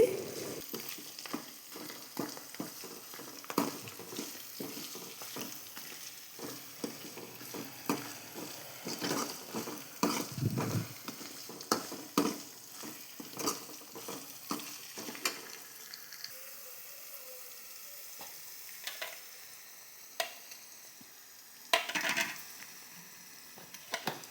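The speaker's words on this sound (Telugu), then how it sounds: "అల్లం వెల్లుల్లి పేస్ట్ను కూడా వేసి పచ్చివాసన పోయేంత వరకు ఫ్రై చేయండి" Ginger-garlic paste fries in a pan for buttermilk rasam while being stirred: a steady sizzle broken by repeated scraping stir strokes and clatters, loud and close, with no talk.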